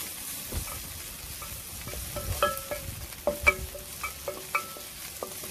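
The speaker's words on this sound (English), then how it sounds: "The onions going nearly brown." Onions frying and nearly browned in a pan, a faint, low sizzle with scattered scraping clicks of stirring that grow busier toward the end.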